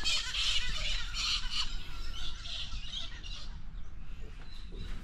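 Birds squawking and chirping close by at a riverside campsite on the Murray River near Yarrawonga, a dense, steady chorus of harsh calls continuing for several seconds.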